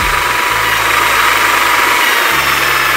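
A wind-power generator motor hums steadily and loudly, its low drone briefly dropping and slowing in pitch as a battery charging load is connected, with no voices.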